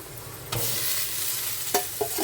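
Potato pieces tipped into a hot pan of oil for an Andhra-style buttermilk curry, sizzling steadily while a spoon stirs them, with a few clinks and scrapes against the pan, close and fairly quiet.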